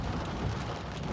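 Steady rain drumming on a car during a drive home, a dense even hiss with low rumble throughout, no voices.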